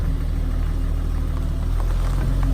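A 1990s Jeep Cherokee XJ engine hums steadily while driving, a close, even low rumble with light road noise and no talking.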